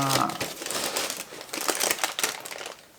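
A plastic wrapper around a chocolate doughnut from Tim Hortons crinkles and crackles near the mic in busy, continuous rustling bursts, with a brief faint voice at the start.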